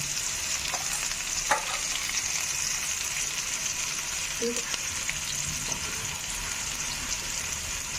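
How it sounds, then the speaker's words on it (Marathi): Onion sautéing with a little turmeric in a pan: steady close frying hiss with a couple of spatula taps and scrapes, continuous and even, no voices. "कांदा छान परतण्यासाठी थोडीशी हळद टाकायची म्हणजे त्याला कलर छान येतो"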